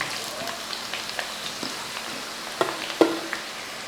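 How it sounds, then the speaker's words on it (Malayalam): Sliced onions fry in hot oil for a beef dish, giving a steady soft sizzle with scattered clicks and pops from stirring, loudest near the end. "ഇത് നമുക്ക് ഈ സബോള ഈ എണ്ണയ്ക്കകത്തോട്ടൊന്ന് വറുത്തെടുക്കണം."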